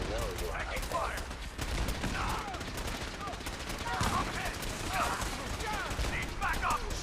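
Gunfire in the Fallout 4 video game, repeated bursts of rapid shots from several weapons running throughout, mixed with shouted combat callouts and other game sounds.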